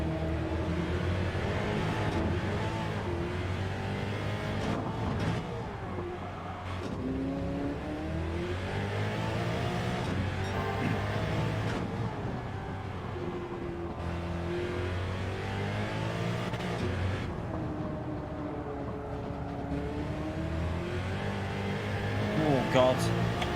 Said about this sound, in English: This car is super sketchy, super sketchy to drive. It's the Porsche living legend.